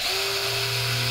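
A Porter Cable PCCK619L2 cordless drill runs at speed setting 2, giving a steady, close, continuous motor whine that holds an even pitch for about a second with no talking.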